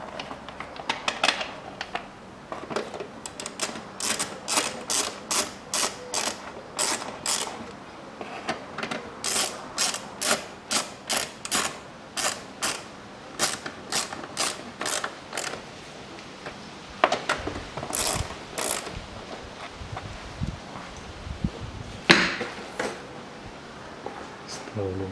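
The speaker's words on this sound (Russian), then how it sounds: "И прикручиваю болты." Ratchet wrench tightening the bolts on the engine cover of a 2014 Nissan X-Trail 2.0 after a spark plug change, a long run of quick, rhythmic clicking bursts repeated again and again, close and clear.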